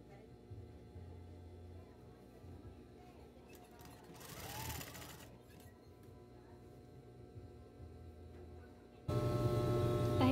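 Sewing machine stitching ribbon onto TV lace, a steady low mechanical whir running throughout, growing louder and harsher near the end.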